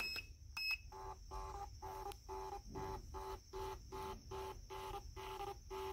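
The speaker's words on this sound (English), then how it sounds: "This is a thermal printer. It uses the thermal paper." A small thermal printer in a battery tester whirs and chirps in a rapid, regular rhythm of short mechanical pulses, close and fairly quiet, with no talking.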